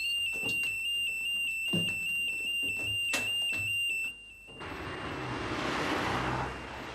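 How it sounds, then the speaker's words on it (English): A bank's alarm rings steadily with a piercing sustained electronic tone over traffic noise outside, then cuts out after about four seconds, leaving a broadband rush of passing vehicles. "Straight into your office and turn off the alarm."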